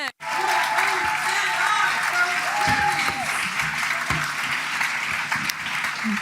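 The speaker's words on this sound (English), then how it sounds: "Big round of applause." Audience at an enterprise summit breaking into loud, sustained applause that swells in quickly and holds steady, with a few voices and whoops mixed in.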